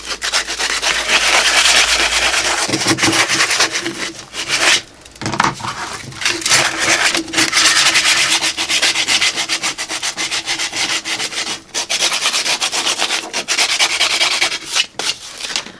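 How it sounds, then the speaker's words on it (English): Sandpaper rubbing back and forth over the sharp cut ends of a metal bar, a loud, close, continuous rasping with short pauses between strokes. "we're just going to kind of sand that off with some sandpaper"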